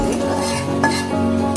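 Boiled chicken is stirred into curry masala in a pot with close scraping and clinking of a metal spoon against the pan over a light sizzle.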